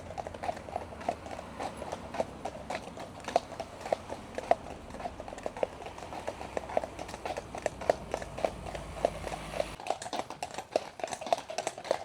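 Horses' hooves clip-clop at a steady walking pace on the way to Neuwerk island across the sea in Germany, close and fairly loud, with faint voices underneath.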